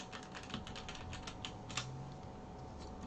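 Someone types a command on a computer keyboard in a quiet room, producing a rapid, uneven run of soft, close keystrokes.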